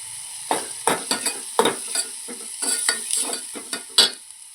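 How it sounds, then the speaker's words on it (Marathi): Spinach paste with biryani masala is stirred and roasted in a pan for tiranga pulav, giving a run of separate scraping strokes over a soft sizzle, close and clear, with no voices. "पालकची पेस्ट आपली व्यवस्थित भाजलेली आहे ह्याच्यामध्ये मी बिर्याणी मसाला घालणार आहे"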